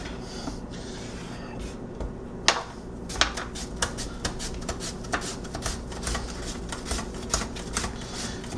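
A sharp knife cuts peeled potatoes into thin slices on a board, with steady, fairly quiet clicks and scraping strokes repeating at an even pace and no talk over them.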